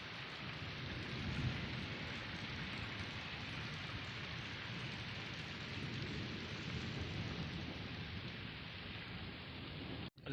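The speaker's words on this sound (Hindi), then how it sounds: "बहुत ज़्यादा बारिश हुई है" Heavy rain pours steadily and evenly over fields where water collects in flower beds, a dense continuous hiss with no break for the full length, without any voices.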